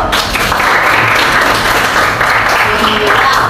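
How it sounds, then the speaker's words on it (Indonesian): A school class applauds after a student presentation in a science lesson on food additives, with loud, close clapping from a small group, mixed with room noise and some overlapping voices. "tepuk tangan dulu."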